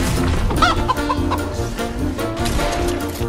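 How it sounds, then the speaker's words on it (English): Chickens cluck repeatedly in the video game Fortnite, a busy run of short game-world clucks set against dense background game sound with no talk. "Hey, it's another chicken."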